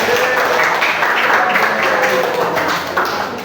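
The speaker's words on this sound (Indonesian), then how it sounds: "kita tepuk tangan untuk ketua kelompok kita" A classroom group applauds its group leader with dense, continuous clapping that runs throughout at steady loudness, with voices mixed in.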